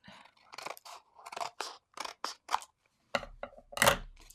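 Scissors snip through paper for a handmade card in a series of short, crisp cuts with brief pauses between them, close and fairly quiet.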